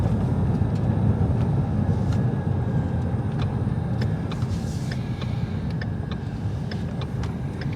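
A 2016 Ford Shelby GT350 Mustang on aftermarket wheels drives along, its engine and tire roar a steady low rumble heard from inside the low car, with faint ticks of debris kicking up.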